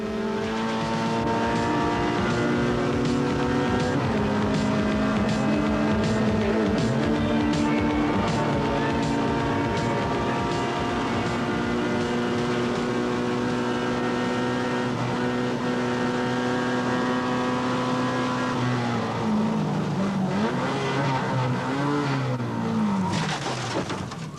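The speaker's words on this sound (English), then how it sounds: "It's Dave Loudon's car on his tail" Race cars roar past on the Phoenix Park circuit in 1986, including MG Metro Challenge cars, Formula Ford 1600s and saloons, loud engines droning at high revs without a break, with the pitch sliding down near the end.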